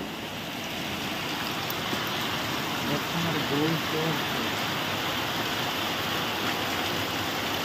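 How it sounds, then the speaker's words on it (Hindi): Heavy rain pours outside as a steady, dense wash of noise throughout, with a voice speaking faintly underneath. "बहुत जोर से वर्षा हो आज"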